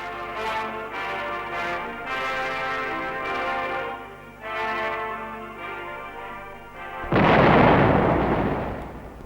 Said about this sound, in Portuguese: a artilharia iniciou o bombardeamento do itinerário